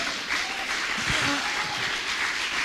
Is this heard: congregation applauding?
yes